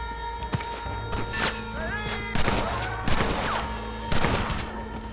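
Repeated rifle fire in Red Dead Redemption as snipers shoot from rooftops, several loud overlapping bursts of gunshots over steady game background sound, with a voice speaking between volleys.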